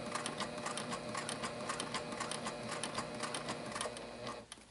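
A sewing machine stitches a seam on a wristlet clutch with appliqué, a steady close mechanical whirr with rapid needle ticking that runs nearly the whole time before slowing and stopping at the end.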